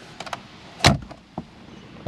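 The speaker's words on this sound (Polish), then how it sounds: "Drzwi otwierają się bardzo szeroko" The door of a 1992 Pontiac Bonneville SSE sedan opens close by: a few small latch clicks, then one sharp release thunk, followed by a softer knock as the door swings wide.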